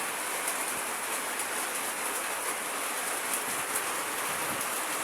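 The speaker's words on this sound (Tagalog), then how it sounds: "Hindi mawala yung ulan." Heavy rain drums steadily on a roof with a dense, even hiss that holds near and loud throughout, with no voices.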